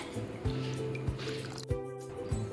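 Water poured into a pot of vegetable soup being cooked at home, soft liquid trickling and splashing with a few distinct drips and knocks, close and moderately quiet, no talk.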